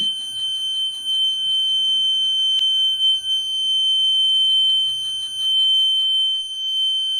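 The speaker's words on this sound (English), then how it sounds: "zone 2 solenoid closed, alarm is working" A fire alarm buzzer from a student alarm-system project with a zone solenoid emits a continuous shrill tone, unbroken and loud, with faint handling noises and a brief click underneath.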